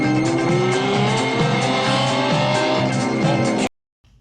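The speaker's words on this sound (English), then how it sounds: "Amazing, when you hear that V12 just rip, right?" A Lamborghini V12 engine revs hard, its loud rasping tone climbing steadily in pitch for several seconds before stopping suddenly.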